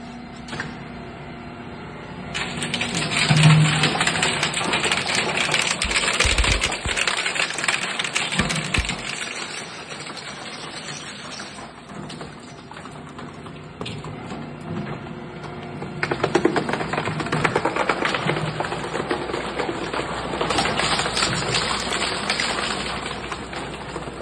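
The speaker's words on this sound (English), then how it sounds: "I'm gonna be passing more parts through the Zuick 400 15 horsepower dual shaft shredder." A Zuick Z2S-400 15-horsepower dual-shaft shredder chews through parts, including a complete bumper, in loud, harsh, continuous grinding and crunching bursts with brief quieter gaps, close and dominant throughout.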